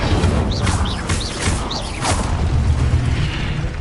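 An Incendio fire spell cast in Hogwarts Legacy gives a loud, dense whooshing burst of flame with several quick magical chirps and swishes layered over a steady rumbling background.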